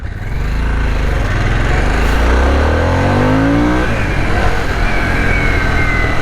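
A 2021 Harley-Davidson Sportster S cruiser motorcycle engine revs hard and climbs in pitch as it accelerates past, loud and close, spinning up the rear wheel, then settles into a steady roar.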